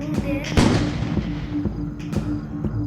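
Firecrackers burst nearby in sharp popping cracks, a couple of loud bangs with crackling decay, heard outdoors amid faint background noise.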